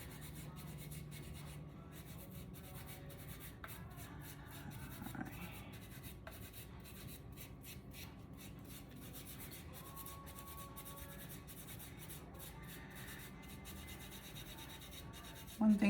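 Faint, steady rubbing and scraping of sanding dry ceramic greenware continues throughout, soft and close, with a brief louder bump at the end.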